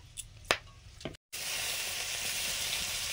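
Cumin, dried chilli and whole garam masala hit hot oil for an egg curry, a couple of soft stirring knocks first, then a brief gap before a loud, steady sizzle fills the rest.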